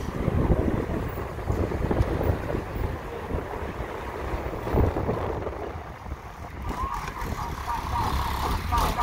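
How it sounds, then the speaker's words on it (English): Strong wind buffets the microphone in continuous roaring gusts, with a muffled voice speaking briefly beneath the noise. "The wind is blowing like crazy."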